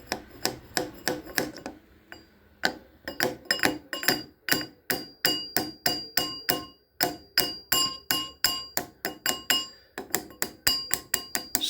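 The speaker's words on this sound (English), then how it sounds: "with a screwdriver or maybe the hammer now" A hammer taps steadily on a trim clip of a Pontiac G6, with dozens of sharp, close metallic knocks in quick rhythmic bursts and brief pauses between them.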